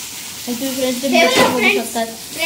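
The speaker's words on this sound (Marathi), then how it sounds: "बघा इथे एका साईडला मुशी फ्राय करायला टाकलेली आहे तव्यात" Mushi (small shark) fish sizzles loudly on a hot tawa, a close, continuous frying hiss while someone talks over it.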